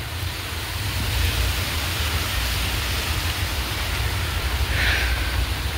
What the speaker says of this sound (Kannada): ಫುಲ್ಲು ಗಾಳಿ ಮಳೆ.